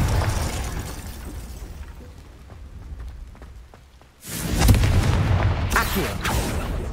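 The Confringo fire spell in the video game Hogwarts Legacy bursts with a sudden loud blast partway through, followed by a crackling, rumbling roar that fades and then surges again, after a softer stretch of low rumble and ambience.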